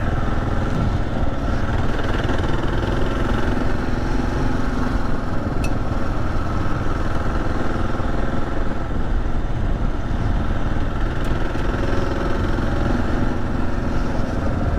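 A 2024 Kawasaki KLR 650 on Tusk Waypoint adventure tires rides a trail, its single-cylinder engine droning loud and constant with wind rumble throughout.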